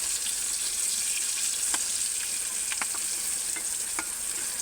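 Spiny gourd (kakrol) slices frying in oil in a pan, a steady close sizzle with a few sharp spatula clicks and stirs scattered throughout.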